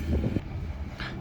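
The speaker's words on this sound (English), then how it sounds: "Sorry about the wind while we're outside." Low, broadband wind rumble buffets a microphone outdoors, steady and moderately loud, with a brief hiss rising near the end.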